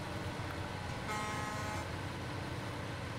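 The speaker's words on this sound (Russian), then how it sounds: "гудок сделан, птички полетели" A truck horn honks once in the SnowRunner off-road driving game, a steady tone of about half a second over continuous loud engine rumble.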